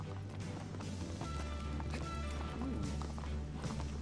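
The horse gallops in the video game Shadow of the Colossus, its hooves beating in a rapid clip-clop rhythm, with people talking over it.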